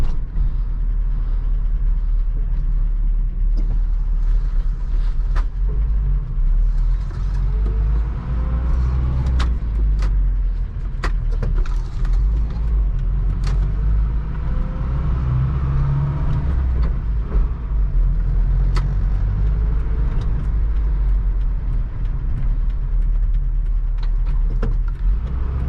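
A 1985 Toyota pickup with no power steering drives along, its engine droning steadily inside the cab with road rumble, occasional creaks and clicks, loud and continuous with no talking.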